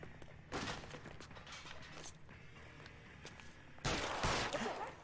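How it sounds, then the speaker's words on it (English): Gunfire crackles in bursts of quick repeated shots, with one loud volley near the start and a heavier burst toward the end, amid mechanical clatter and no clear talk. "Oh, he's shooting."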